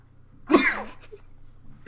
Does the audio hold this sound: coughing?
yes